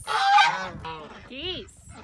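Geese at a mobile chicken coop give a burst of loud, close honks, several overlapping calls in quick succession with a few rising, wavering cries toward the end.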